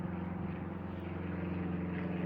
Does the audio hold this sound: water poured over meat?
no